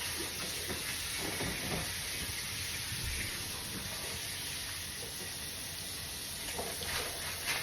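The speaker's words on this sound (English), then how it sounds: "Getting ready to go ahead and add my water to that rice." Water poured onto rice roasting in a pan gives a loud, steady hiss and sizzle of steam that holds without a break, close and constant.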